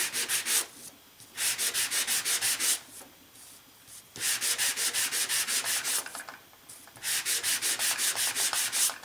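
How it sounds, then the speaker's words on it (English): Rhythmic scratchy rubbing of a small sanding block lightly over a gift box surface to reveal a design, quick back-and-forth strokes in three bursts separated by short pauses, close and fairly loud. "in order to sand your design, you're going to just grab a small sanding block"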